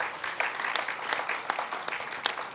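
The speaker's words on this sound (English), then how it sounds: "Can we give them a round of applause?" An audience applauds children who have just sung at a community grand opening, a steady dense patter of many hands clapping at moderate volume with no talk over it.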